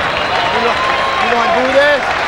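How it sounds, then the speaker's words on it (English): A boxing crowd at a world middleweight fight, Bernard Hopkins against William Joppy, rising and applauding Hopkins, a broad sustained roar of clapping heard beneath a commentator talking throughout. "take to their feet and applaud the display that Bernard Hopkins has put on in this world middleweight fight"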